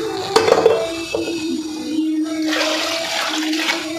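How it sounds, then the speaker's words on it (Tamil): Water, about 2 litres, poured into a cooking pot for Vaniyambadi-style mutton biryani, with a clink of metal at the start and then a steady rushing pour that runs for several seconds, close and fairly loud. "இப்போ நான் 2 லிட்டர் தண்ணி ஊற்றிடுறேன்."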